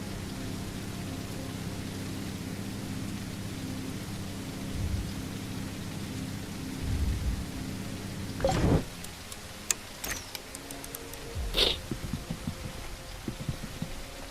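Rain falls steadily in the video game Everwind, a soft, constant hiss broken by a couple of short, sharp thunder cracks near the end.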